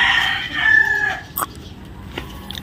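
A rooster crows once, loud and close, a strained rising call followed by a few short clucks and scratchy noises.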